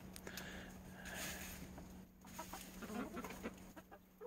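Hens cluck in a coop while eating, with a rooster among them; soft, irregular clucks and murmurs continue throughout at moderate distance over a steady low hum.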